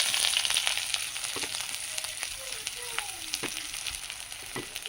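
Chopped onions hit hot oil left from frying fish and give a loud hiss at first that settles into a steady sizzle, with scattered light stirring clicks close by.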